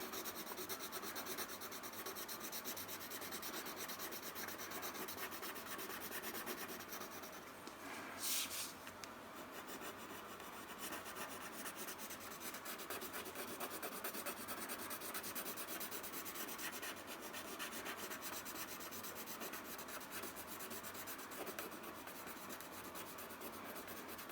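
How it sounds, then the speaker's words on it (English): Steady hard pencil shading on paper, pressed firmly for the darkest value, making a continuous dry rubbing scrape that runs evenly throughout with a brief brighter rasp partway through. "that is pressing harder than you normally write to get the darkest value"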